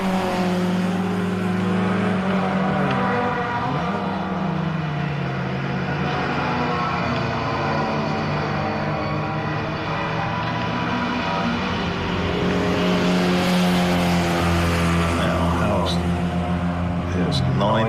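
A 4-cylinder MGB GT and other classic sports cars race side by side at Castle Combe circuit, engines droning steadily with rising and falling pitch as they pass, under continuous commentary.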